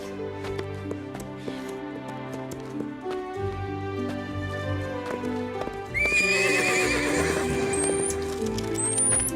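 A large grey horse whinnying and neighing with hoof clip-clops, the calls growing louder and sharper in the second half over a soft musical background.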